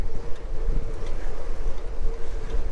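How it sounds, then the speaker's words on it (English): Wind buffeting a microphone outdoors, a steady low rumbling roar with gusty swells that runs the whole time, close and fairly loud, with no voice. "It's actually surprisingly windy."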